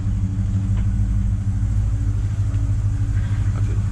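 Deep, steady engine rumble from an LS1 V8-swapped Nissan Patrol GU as it pulls away in reverse, loud and close throughout with a low droning tone and no voices.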